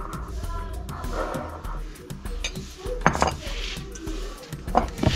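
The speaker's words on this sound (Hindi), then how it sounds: "ये देखिए हल्के हल्के हाथ से इसे मिक्स करेंगे" Strawberry sponge cake batter is gently folded with a utensil in a bowl, giving soft scraping and repeated light clinks against the bowl, close and steady over a low background.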